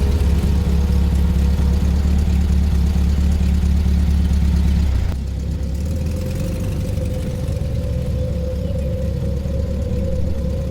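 A motorbike engine runs in a steady low idle rumble, then shifts abruptly to a smoother, higher droning tone as it pulls away, loud and continuous throughout as a sound effect in a horror story.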